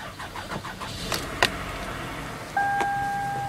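A 2004 Toyota Sienna that had run out of gas turns over after a boost start, with a few short cranking bursts before the engine catches and settles into a steady idle, close and fairly loud.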